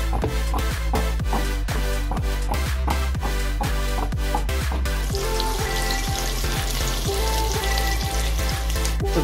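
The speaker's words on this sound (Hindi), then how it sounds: "चलो पहले आलू को फ्राई कर लेते हैं" Potatoes frying in oil with salt and turmeric give a loud, steady, close sizzle with crackling throughout, and occasional stirring scrapes over the constant frying hiss; no one speaks.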